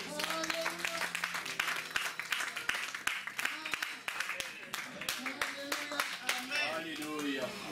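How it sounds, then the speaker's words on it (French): A crowd claps and cheers at a wedding anniversary celebration, with dense, sustained applause and loud voices calling out over it throughout. "Acclamons très fort."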